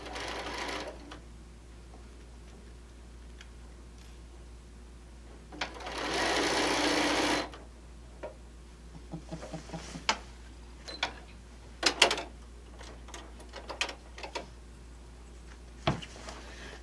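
Sewing machine stitching through a quilt at a quilt tack, with a loud steady burst of running stitches in the middle and scattered ticks and clicks of the machine before and after, no talk.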